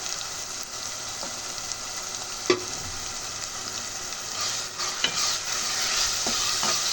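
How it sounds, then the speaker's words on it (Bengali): Spices (chilli, turmeric, salt) frying in a light layer of oil in a pan over tomato and onion for a chicken curry, a steady close sizzle with occasional sharp stirring clinks and scrapes, no talk. "হালকা তেলের উপরে ভেজে নেব।"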